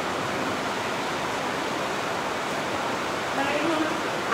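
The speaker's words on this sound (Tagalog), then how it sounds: "Sinasabayan pa ng malakas na ulan." Heavy rain pours steadily during a tornado over Laguna Bay, a dense, even hiss of falling water with a rushing, wind-swept quality throughout.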